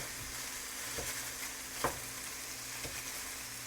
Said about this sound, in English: The sausage is almost done, so I'm going to go ahead and break it up now.